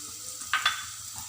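Onion and tomato sautéing in a pan for egg bhurji, a steady soft frying hiss with two brief louder stirring scrapes near the middle; no talking.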